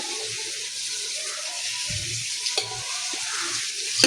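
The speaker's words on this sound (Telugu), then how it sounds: "దగ్గర మొత్తం అంతా ఇలా ఫ్రై అవుతుందండి" A large pot of biryani fries over the heat with a soft, even sizzle and occasional faint stirring scrapes. It is close but not loud, and no one speaks.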